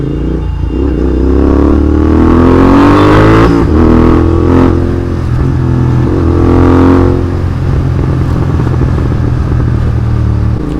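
Road traffic in a jam on the Kolkata to Tarapith route in heavy rain, with cars and motorcycles, including a Royal Enfield, revving and idling. The engine noise is loud and continuous, rising and falling over steady low rumble.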